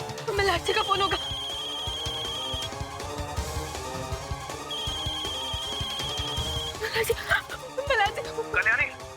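A telephone rings with a repeated electronic ringtone in two long stretches over dramatic television music, amid a tense scene with people speaking.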